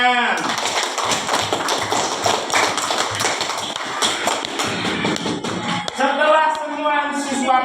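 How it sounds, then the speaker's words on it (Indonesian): A classroom of students clapping their hands, as a dense patter of many claps from close by, with a teacher's voice talking over it toward the end. "tepuk tangan"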